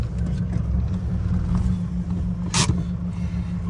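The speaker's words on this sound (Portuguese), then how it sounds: "eu vou estacionar o carro aqui" A car's engine idles and rumbles steadily as it is parked, with a low, continuous drone close by and one short, sharp mechanical noise partway through. No one speaks.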